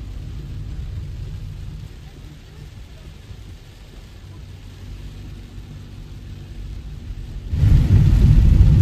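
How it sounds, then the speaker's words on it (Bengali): Heavy monsoon rain and distant rumbling thunder in Meghalaya, heard from inside a moving car as a steady low roar that swells louder near the end. "এখন কিন্তু মুষলধারে বৃষ্টি হচ্ছে, চারিদিকে মেঘে ঢাকা।"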